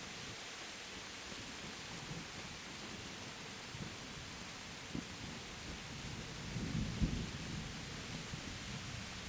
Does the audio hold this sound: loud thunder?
yes